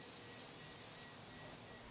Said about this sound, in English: So I'm gonna spray it. Morphe Continuous Setting Mist.